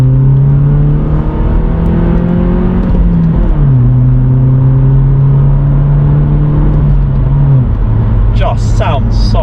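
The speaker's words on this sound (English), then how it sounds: "Now the exhaust on this thing is a game changer." A BMW 1 Series with an aftermarket exhaust revs loudly and close by, the engine note climbing in steady sweeps and dropping between throttle blips, with brief voices near the end.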